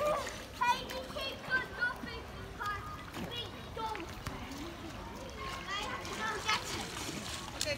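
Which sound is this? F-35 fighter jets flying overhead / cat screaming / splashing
splashing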